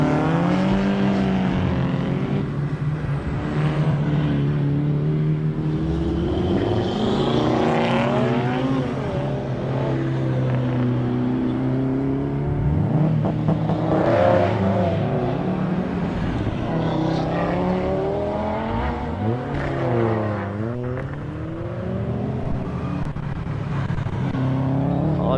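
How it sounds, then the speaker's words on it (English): Race cars idle and rev hard on the start line of a Mt Lofty hill climb, with a loud, continuous, layered engine roar and rising and falling revs heard from close by, without talking. "I'll let you listen to a few of these cars on the start line."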